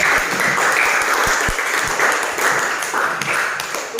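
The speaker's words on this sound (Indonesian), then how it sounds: "tepuk tangan dulu" Students in a Year 12 classroom clap after a group presentation, a loud, close burst of many hands with a few sharp individual claps standing out, sustained evenly throughout.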